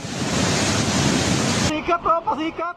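Roaring rush of a flooded, overflowing river in General Santos City, a dense broad wash that fills the first part, then drops away as a voice speaks over quieter water.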